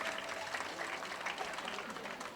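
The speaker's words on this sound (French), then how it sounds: "des applaudissements pour Khoudia Mbacké" Applause at a school cultural day ceremony, steady and moderately loud throughout, with a dense crackle of many hands and no clear speech over it.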